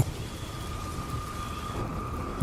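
Heavy rain pours outside in an animated ghost story, a steady dense hiss of downpour with a low rumble beneath, constant and unbroken.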